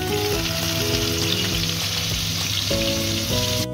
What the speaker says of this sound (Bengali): মাছ ভাজার তেলের মধ্যেই আমি দিয়ে দেব পেঁয়াজ কুচি